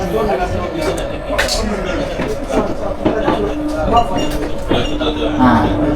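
A crowded airport train bound for Paris rumbles steadily along, with close metallic clinks and rattles over a continuous murmur of passengers' voices.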